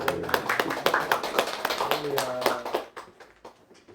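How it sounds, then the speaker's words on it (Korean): A church congregation at a Sunday service claps in a dense, fast patter with a voice talking over it, then the clapping thins to a few scattered claps near the end. "우리 박수로 한번 하십시오"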